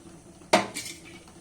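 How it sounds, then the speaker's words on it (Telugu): Spoon stirring coriander into hot tomato curry in a metal pot: a single sharp clank of utensil against the pot followed by a short scraping rattle, close and moderately loud, then quiet. "ఒక టమాటా కూరలో కొత్తిమీర వేసి కలిపి మూత పెట్టండి."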